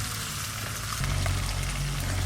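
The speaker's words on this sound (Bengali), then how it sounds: "একটু পাতলা ঝোল হবে জন্য একটু জল দিচ্ছি বেশি" Water is poured into a pot of simmering village-style country chicken curry with potatoes, a loud broad hissing sizzle that shifts to a lower bubbling rumble partway through.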